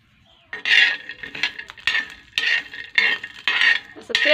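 Peanuts being stirred as they roast in a little oil on a griddle, making close, repeated metallic scraping and clinking strokes in short bursts, with no voices.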